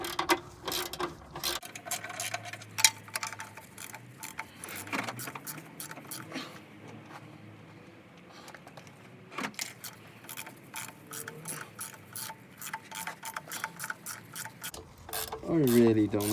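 A ratchet wrench clicks rapidly in repeated bursts on a mini truck, close by and crisp, with a quieter lull in the middle and short metallic clinks between strokes.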